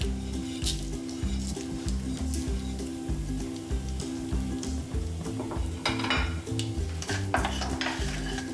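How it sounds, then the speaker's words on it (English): Red chillies and black mustard seeds tossed into a hot pan for raw mango chutney, giving a steady sizzle with scraping stir strokes and occasional clinks of a utensil on the pan, close and continuous without talk. "So I'm going to put some red chillis in it, and some black mustard seeds or kala rai."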